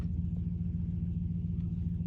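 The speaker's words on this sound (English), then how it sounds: "Now we got the sound of a big truck starting up" A big truck rumbles steadily nearby as its engine runs after starting, a continuous low, droning idle with no voices.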